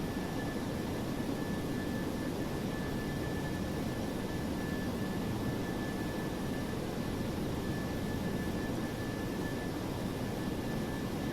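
Jet engines of a DC-8-73F freighter in the FSX flight simulator drone on with increased power, a steady broadband roar with a faint high whine, continuous and unchanging throughout.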